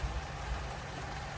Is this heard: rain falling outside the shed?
yes